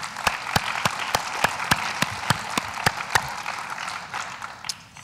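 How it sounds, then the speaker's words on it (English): A live event audience applauding the evening's sponsors: steady, dense clapping with sharp individual claps standing out, sustained for several seconds and slowly thinning toward the end, with no talking over it. "So if we could just give them a round of applause."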